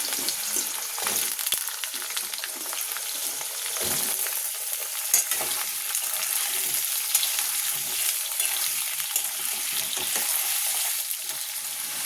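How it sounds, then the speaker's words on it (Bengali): Potatoes for a vegetarian paneer dish fry in a pan of hot oil with a continuous close hiss and crackle, broken by occasional scraping stirs. No voices are present. "দেখো আলুটা কিন্তু লাল লাল করে ভাজা হয়ে গেছে"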